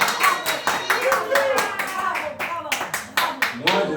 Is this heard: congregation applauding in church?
yes